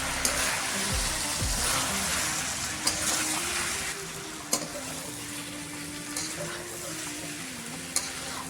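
A spoon stirs chicken liver masala with coriander and turmeric powder in a hot pan, giving a continuous close sizzle and scraping with a few sharp clinks against the metal.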